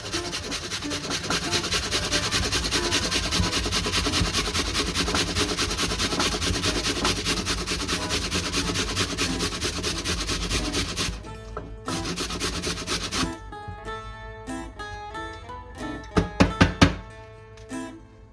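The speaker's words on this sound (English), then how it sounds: "And the carrot I'm gonna grate it on the small grater." A carrot is grated on the small side of a kitchen grater, a close, steady rhythmic rasping that runs continuously, then slows into separate strokes and a few knocks at the end.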